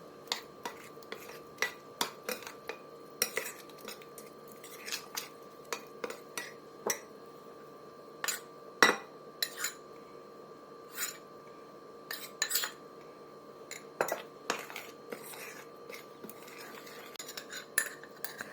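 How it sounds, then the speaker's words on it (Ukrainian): A spoon clinks and scrapes against a bowl in irregular bursts, mixing yeast pancake batter as flour is added, close by, with soft rubbing between the sharper knocks. "перемішаю все і буду додавати поступово борошно"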